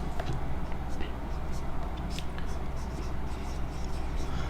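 Pen scratching across paper while notes are written by hand in a biology lesson, soft intermittent strokes close by with a faint background hum.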